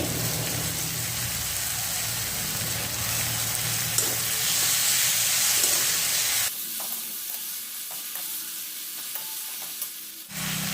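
Capsicum sautés in a pan, close with continuous sizzling and stirring for about six seconds, then the sizzle drops away to quieter scraping and clinks.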